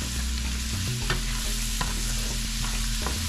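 Seasoned chicken frying in a pan, a steady close sizzle with faint stirring scrapes and occasional light clicks throughout, no voices.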